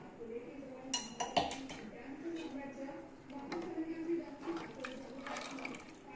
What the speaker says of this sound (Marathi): आता अर्धा ग्लास पाणी टाकून घेते